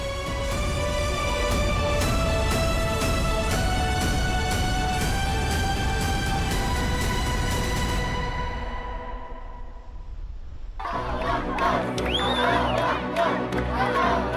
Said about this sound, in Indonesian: Sorak-sorai dan rasa syukur mewarnai reaksi warga Gaza atas kesepakatan gencatan senjata dan perjanjian damai antara Hamas dan Israel.